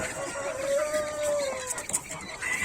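Chicks peep in a gift box of poultry, a thin high sustained cheep with a few shorter chirps around it, close and fairly faint.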